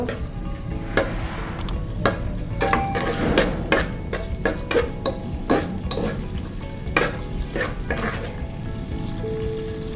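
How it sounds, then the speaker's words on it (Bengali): Onion and garlic frying in oil, a steady sizzle broken by sharp clicks and taps of a spoon stirring against the pan. "এখন পেঁয়াজ আর রসুনটাকে একটু তেলের মধ্যে ভাজা ভাজা করে নিব।"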